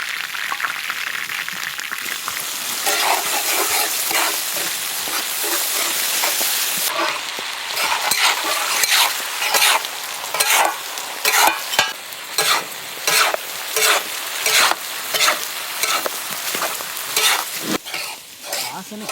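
Chopped onion, curry leaves and soaked intestine curry sizzle loudly in a pan, first as a dense, even frying hiss, then broken by rapid, rhythmic scraping stirs in the second half.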